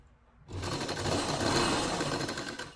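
A sewing machine stitches lace trim onto a dupatta, its steady whirring run starting abruptly after a short quiet moment and continuing close and loud without pause.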